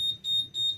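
Motorcycle anti-theft alarm giving its answer-back signal: a clear high-pitched electronic beep repeated three times in an even rhythm, close and fairly loud, with no talking.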